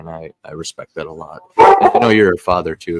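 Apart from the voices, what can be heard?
dog barking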